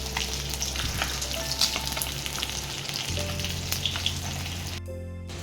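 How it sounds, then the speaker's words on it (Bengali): Fish frying in a pan gives a steady, dense sizzle with small crackles and pops, close and fairly loud, with a sharp burst of spitting near the end; no one talks. "এই যে মাছ ভাজা হয়ে গেছে, আর একটুখানি ভাজবো।"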